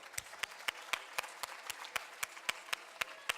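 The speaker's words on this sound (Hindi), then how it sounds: "प्लीज जोरदार तालियां पहले तो" An audience at a 2012 evening stage programme claps in a steady, evenly spaced rhythm before a play, each sharp clap distinct but fairly faint and distant, with no talk over it.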